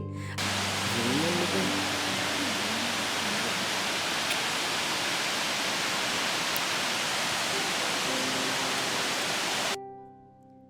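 Ladder Falls waterfall in Tallulah Gorge State Park roars as a steady, dense rush of falling water, constant and loud for about ten seconds before cutting off abruptly.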